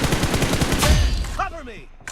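Rapid automatic gunfire in a shooting video game: a loud, close burst of closely spaced shots lasting about a second, followed by clinking shell-casing and reload noises, with a brief voice callout.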